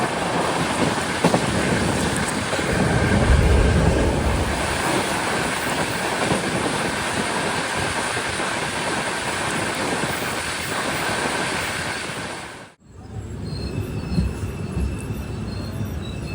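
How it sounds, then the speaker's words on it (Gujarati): Saurashtra Mail passenger train pulling out of Than station, a steady loud rumble of rolling wagons with rail clatter and faint wheel squeal that cuts off abruptly near the end into quieter ambience. "ગાડી અહીંયાથી ઉપડી જાય છે."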